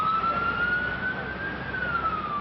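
Ambulance siren wailing in New York City streets during a mass-casualty emergency, a single sustained rising and falling tone over road noise, loud and fairly close with no voices.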